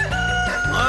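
A cartoon rooster crows loudly and close for about a second, a bright drawn-out cock-a-doodle-doo with strong harmonics that fills the whole clip, with no talking over it.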